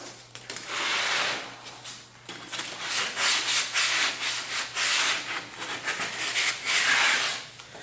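Sandpaper rubs a cut hole in a wooden computer desk case, producing repeated rhythmic rasping strokes in bursts, close and moderately loud, with brief pauses between passes.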